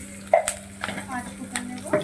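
Cumin seeds hit hot oil while making Bengali rui fish tel jhal, giving a brief soft sizzle and light stirring clinks, quiet and close.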